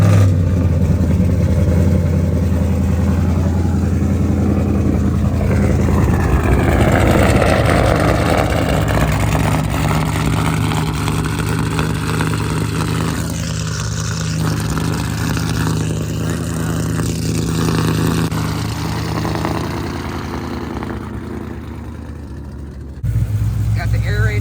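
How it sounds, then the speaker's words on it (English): A 2010 Ford Mustang GT with an aftermarket exhaust setup idles and revs, its deep burbling exhaust loud and close, swelling and settling over a long stretch before cutting off abruptly near the end. "I'm going to actually start the car. You guys can hear my exhaust setup."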